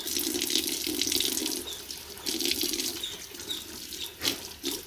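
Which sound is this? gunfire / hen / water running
water running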